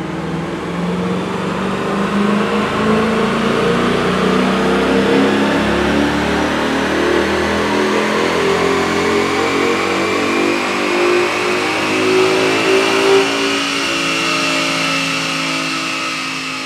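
A 2015 Ford Mustang GT V8 fitted with a BBK cold air intake revs steadily up through the gears on a dyno, loud and continuous with rising engine pitch throughout.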